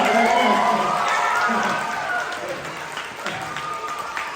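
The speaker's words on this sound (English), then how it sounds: "Round of applause." Audience applause in a science show, a crowd clapping for several seconds, loud at first and then thinning out, with voices mixed in.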